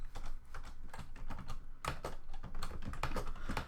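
Rapid typing on a computer keyboard, with dense, uneven keystroke clicks running almost continuously and close up, and no voices.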